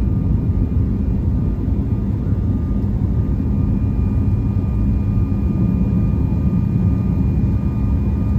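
Airplane cabin noise, a loud steady low engine roar with a constant broadband hiss and a faint high whine, unchanging throughout.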